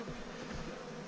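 Honey bees buzzing close by while a beehive is opened for inspection in August, a steady dense hum of many insects with no talk.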